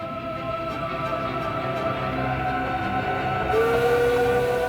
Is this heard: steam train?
yes